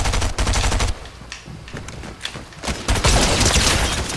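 Gunfire from players fighting in Fortnite: loud, rapid bursts of shots in two main clusters with a lull of scattered pops between them, close and sharp, with no speech.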